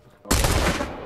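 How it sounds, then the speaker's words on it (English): Gunfire in the VR shooter game Pavlov VR bursts in abruptly after a quiet moment and stays loud and sharp as a short blast of shots. "can you guys hear the gunshots through my headphones?"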